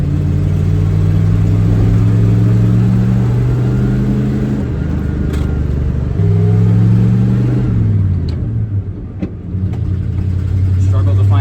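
A 1978 Dodge truck with a small radiator driving along, its engine droning steadily loud and close, with revs dropping and rising as gears shift and some fumbling for third.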